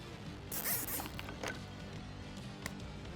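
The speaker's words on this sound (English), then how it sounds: "we're just gonna zip tie this whole mess of wires up" Zip ties ratcheting shut around a bundle of headlight wiring on a 2020-2022 Ford F-250, a quick close burst of zipping clicks early on, then a couple of fainter ticks over a low steady hum.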